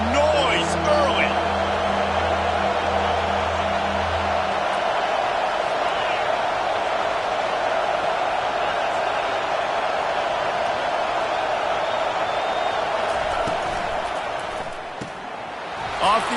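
A roaring stadium crowd from the College Football 25 video game forms a dense, steady wall of cheering noise throughout, easing slightly near the end.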